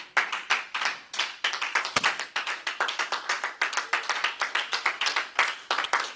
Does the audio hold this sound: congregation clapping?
yes